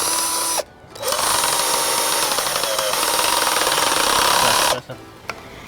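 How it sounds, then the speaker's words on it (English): A power drill drives a screw into a wooden stick while a child's toy sword is being made, its loud steady whir running for about four seconds after a brief pause, with a short burst before and a gap after. "just screw it in with the drill"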